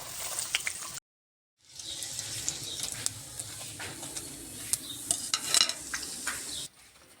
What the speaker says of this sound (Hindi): फिर इसको सिंपल हम फ्राई कर लेंगे ऑयल में डालकर।